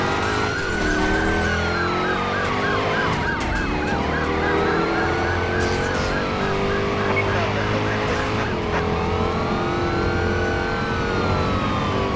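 Police sirens wail in rising and falling sweeps over revving car engines during a chase in the Driver San Francisco video game, loud and continuous throughout with several sirens overlapping.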